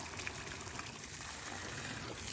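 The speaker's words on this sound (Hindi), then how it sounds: "और ये बाल्टी भर देते हैं" Water from a Tullu pump gushes into a bucket in a steady, close, continuous rush with no talking.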